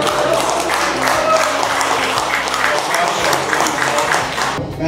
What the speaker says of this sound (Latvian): Un šeit ir laimīgi aplausi.